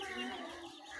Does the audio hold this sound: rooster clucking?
yes